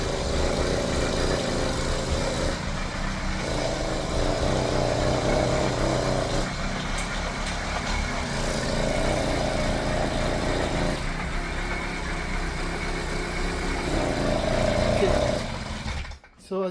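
An 80cc motorized bicycle engine with a choke runs steadily, its mid-pitched drone swelling and easing in repeated throttle cycles, close by, before cutting out abruptly near the end.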